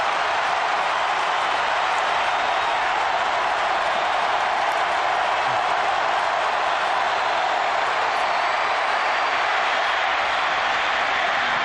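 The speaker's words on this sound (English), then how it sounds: "Listen to this crowd." Steady roar of a college football stadium crowd at a 2006 Florida vs Auburn game, a dense unbroken wash of cheering and noise holding level throughout with no clear voices on top.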